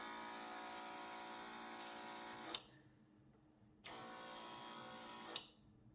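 An electric sprayer pump runs in two bursts, a faint, steady buzzing drone with sharp starts and stops and a short silence between them.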